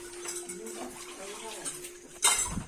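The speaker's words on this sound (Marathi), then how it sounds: "बायचं चालली भांडी घासायचं काम" Running water and clinking dishes at a sink, faint and a little distant, with a louder clatter of pots near the end.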